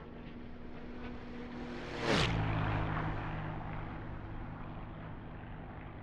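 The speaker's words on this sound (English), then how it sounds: "It was Air Joe in a P-51." P-51 propeller fighter sweeping past in the DCS flight simulator game, rising from a faint hum to a loud close whoosh with a falling pitch, then fading back to a drone.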